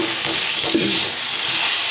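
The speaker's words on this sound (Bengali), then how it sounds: "বেগুনের মধ্যে নুন আর হলুদ মিশিয়ে একবারে বেগুন ভাজাটা আমি বসিয়ে দিয়েছি" Eggplant seasoned with salt and turmeric frying in a pan, a continuous close hiss of hot oil with one brief stir in the middle.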